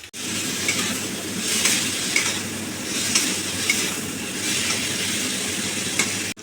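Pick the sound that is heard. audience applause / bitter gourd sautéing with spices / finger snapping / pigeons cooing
bitter gourd sautéing with spices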